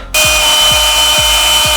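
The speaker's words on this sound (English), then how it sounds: "I'm going to pre-drill this. I'm using a Milwaukee drill." A Milwaukee power drill whines at a steady high pitch close by, with a rhythmic thumping grind about twice a second as the bit works through aluminum.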